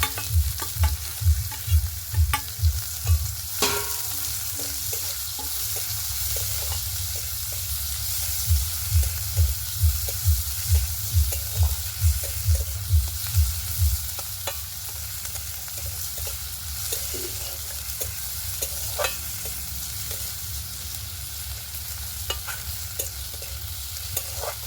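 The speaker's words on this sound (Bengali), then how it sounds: "পেঁয়াজগুলো ভালো করে একটু ভেজে নেব" Chopped onions frying in a pan with cumin for a goat fat curry, under a constant sizzle, with bursts of rhythmic spoon scraping in the first half, then steadier frying and light clinks.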